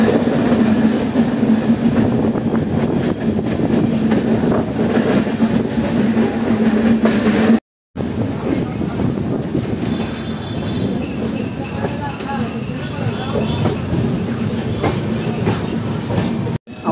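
The Darbhanga Maithili Express, heard from on board near Dum Dum, rolls along with a continuous loud rumble and rhythmic wheel clatter, broken by a brief dropout, with faint tonal squeals later.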